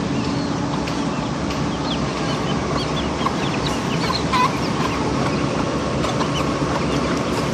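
Flock of chickens with chicks crowding in for scattered feed, a busy near chorus of clucks and soft cheeps over constant scratching and shuffling, with no voices.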